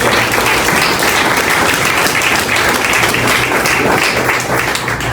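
A church congregation breaks into strong applause, dense, loud and continuous clapping that holds steady for several seconds without a break.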